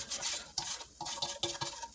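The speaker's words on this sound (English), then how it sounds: "you see how I keep on moving it around because you don't want to let it sit" Flour and pork chops stirred in a frying pan, a spoon scraping and pushing in steady repeated strokes with light sizzling and occasional clinks against the pan, close and fairly quiet.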